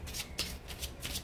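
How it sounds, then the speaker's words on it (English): A deck of tarot cards is shuffled up close with soft, repeated riffling bursts in an even rhythm and no talking. "I guess we're going to have to give it a shuffle"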